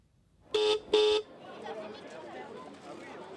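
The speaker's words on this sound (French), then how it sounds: "2 coups de klaxon, les archers se mettent en place sur le pas de tir." Two short, loud horn blasts at an outdoor youth archery competition in Montpellier signal archers to take position, followed by a murmur of people chatting in the background.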